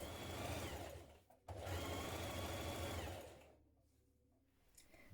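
A domestic sewing machine runs a seam on a wrap dress in two bursts of fast, even stitching, broken by a short pause, before the motor winds down into quiet.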